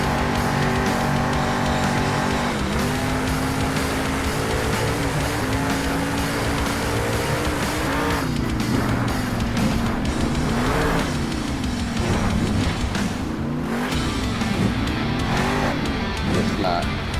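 Monster truck engines roaring and revving with tire squeals and skids in the video game Monster Jam Steel Titans 2, a loud continuous stream with pitch swells, as someone talks over it.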